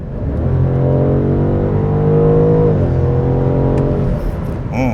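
The V8 gasoline engine of a BMW M850i Gran Coupe pulls hard, its loud, smooth drone rising and holding steady as the car accelerates, heard close from inside.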